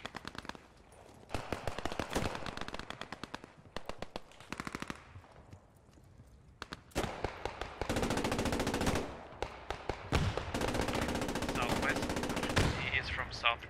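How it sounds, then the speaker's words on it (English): Machine gun fire in the World War II shooter Post Scriptum: rapid bursts of automatic gunfire, some close and loud and some more distant, repeating throughout with short pauses, under faint voice chatter. "We have a machine gun at G532."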